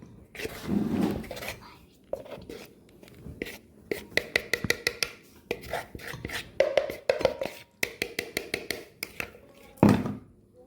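Brownie batter being mixed in a bowl, a run of quick scraping and tapping strokes from a utensil against the bowl's sides, close up, with soft talking and whispering at the start and between bursts.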